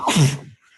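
A single loud, close sneeze: a sharp burst of breath that trails off quickly into quiet.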